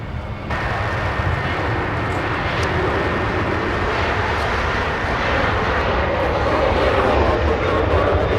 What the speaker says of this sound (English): There goes the KLM that pushed back.